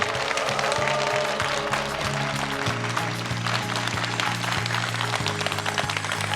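An audience claps steadily at a televised lecture event for Jeungpyeong County's 20th anniversary, welcoming the county governor to the stage. The applause is continuous and fairly loud throughout, with tonal music playing underneath.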